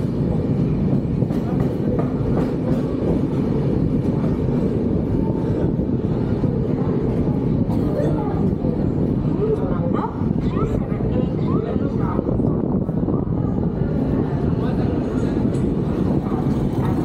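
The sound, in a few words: train starting to move, leaving Bardhaman Junction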